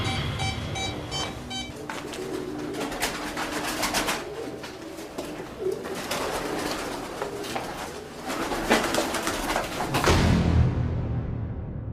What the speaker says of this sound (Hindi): जब कबूतरों के पिंजरे में हम एंटर हुए तो शुरू में तो कबूतर थोड़ा सा परेशान हो गया